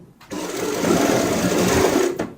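An electric sewing machine runs in one steady, close burst of rapid stitching, taking in seams on a lightweight readymade gown during an alteration.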